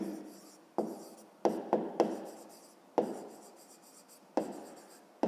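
A pen writing an answer by hand, with close, scratchy strokes in short bursts separated by brief pauses and small taps.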